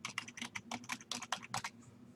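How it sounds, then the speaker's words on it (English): A name and email address are typed on a computer keyboard as brisk, close bursts of key clicks, quiet and uninterrupted by speech. "I'll fill in my name and my email address"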